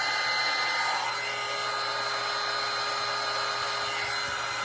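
A hair dryer drying a chunky craft riser gives a steady, loud, close whirring blow that runs unbroken throughout, with no one talking.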